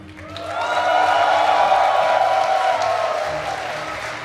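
A large crowd at an Age of Empires II LAN tournament cheers and applauds loudly, a sustained roar with whistles that holds steady and then slowly begins to fade.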